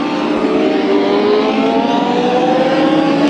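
Legend race cars lapping Kern County Raceway during a heat race, a loud, steady engine roar with rising and falling revs from several cars running together throughout.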